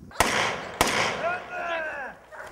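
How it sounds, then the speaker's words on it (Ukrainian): Two sharp gunshots ring out a little over half a second apart during a police special forces training exercise with smoke grenades. A faint whistling or squealing follows, and a voice is heard under the sounds. "З димом та пострілами ось так зараз тут відбуваються навчання."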